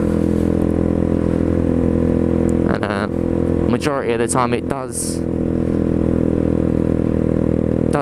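A small 125cc motorcycle engine idling with a loud steady rumble, a rider talking briefly over it partway through before the engine drone carries on alone.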